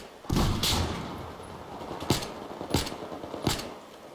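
Battlefield 4 sniper rifle firing, a heavy sharp shot followed by several further spaced cracks, each loud and punchy against a low background rumble.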